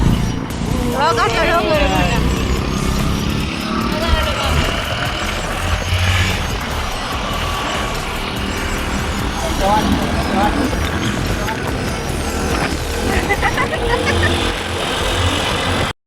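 Vehicles carrying three riders each move along a road in a convoy, a steady engine drone and road noise throughout, with people talking over it.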